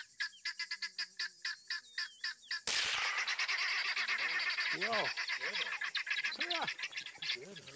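A wild turkey calls during a hunt: a run of evenly spaced sharp yelps, then a sudden loud burst and a string of rolling gobble-like calls, fairly clear with no talking.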